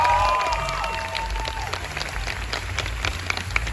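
A festival concert audience claps in a sustained, dense wash of applause with some crowd noise, following a brief voice at the start.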